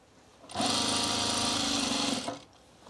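A sewing machine edge-stitches an ironing board cover in one quick, steady burst of close, rapid whirring stitches that lasts about two seconds before stopping.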